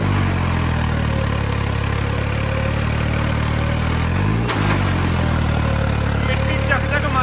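A Deutz-Fahr 70 hp tractor engine runs at a steady low throb as the tractor slips in mud, with a brief shift in pitch midway, loud and close throughout.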